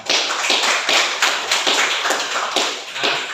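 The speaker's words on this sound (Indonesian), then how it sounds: "Dan kita tepuk tangan untuk kita semua" A class of primary schoolchildren at SDN 2 Gubug clap their hands together in a dense, continuous round of applause with rhythmic pulses, loud and close, filling the whole moment.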